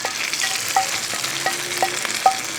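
A tempering of dried chillies and curry leaves poured into chicken curry crackles and sizzles up close, with scattered sharp pops and faint clinks over a steady frying hiss.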